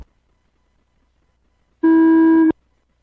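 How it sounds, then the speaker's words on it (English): After a stretch of silence, one loud electronic buzzing tone starts an RC car race, sounding for under a second, then cutting off sharply. "we're going racing on the sound of the tone"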